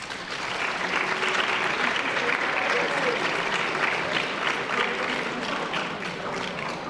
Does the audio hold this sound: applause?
yes